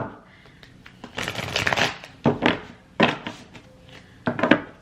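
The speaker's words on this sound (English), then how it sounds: "It said shuffle again real quick." Tarot cards shuffled by hand in several quick bursts of riffling and flicking, close and crisp, separated by short pauses and soft thunks as the deck is squared.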